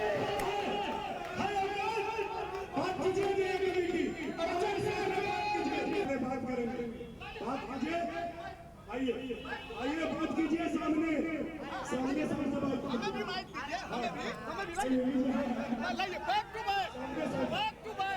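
Large crowd uproar at a hillside Hindu temple, with many voices shouting and chanting slogans together in a dense, continuous roar, talk mixed throughout.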